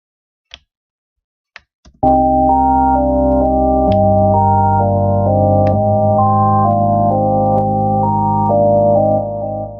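Sustained synth pad chords enter after a few soft clicks, layered harmony notes shifting every couple of seconds, steady and fairly loud.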